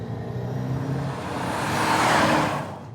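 A 3.2-litre V8 sports GT engine swells as the car passes, a loud rising roar with a low throb that peaks near the end and then eases away.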